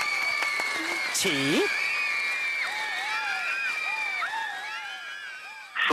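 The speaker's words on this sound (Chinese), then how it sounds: "来我们掌声鼓励" A studio audience at a Taiwanese radio talk show claps in a steady broadband patter for several seconds, while voices talk and sing over it close to the microphone.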